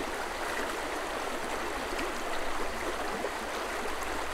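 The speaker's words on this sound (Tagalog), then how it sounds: "dito tayo sa ilog na kailangan tawirin para pumunta doon sa kung saan tayo sasakay ng bangka papunta sa paaralan" A river that has to be crossed to reach a boat to school, flowing in a steady broadband rush with no breaks, continuous and fairly close, with no voices.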